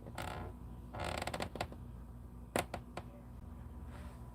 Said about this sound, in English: Can you hear that creaking?